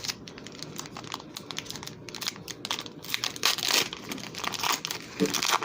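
A Pokémon Shining Fates booster pack wrapper is torn open by hand, crinkling and crackling in dense bursts close by, growing louder and busier toward the end.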